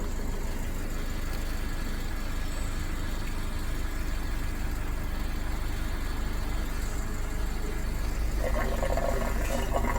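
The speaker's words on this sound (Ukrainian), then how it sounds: "Коли проводиться тест, булькає в баку." Fuel gurgles and bubbles inside a Jeep Cherokee's tank during an EVAP system test, a steady, close wash of liquid noise mixed with a running engine's hum, with no voices.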